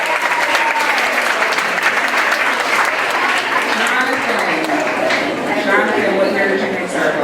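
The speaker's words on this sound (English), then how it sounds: "How about a big round of applause for all of our Circle board?" An audience claps loudly and steadily for a Circle board at a 2015 pinning ceremony, a dense, continuous wash of applause with a few voices mixed in.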